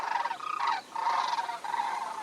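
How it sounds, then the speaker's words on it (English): Migratory birds calling in a continuous, chattering chorus, the calls dense and fairly close, sustained with a couple of brief dips throughout. "It's a little bit like those migratory birds that we're hearing now."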